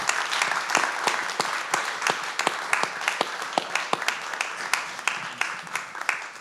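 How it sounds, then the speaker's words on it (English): Audience at an evening talk giving the speaker a round of applause, a moderate crowd clapping with distinct, sharp individual claps standing out over a softer bed of hands. "if you could join me in giving a round of applause to our speaker tonight"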